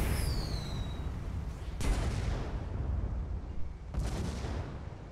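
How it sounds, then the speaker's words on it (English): Artemis weapon shots fired from an airship in a video game battle: two heavy, booming blasts a couple of seconds apart over a steady low rumble of wind and engine noise. "Good Artemis shots from the Wintroll"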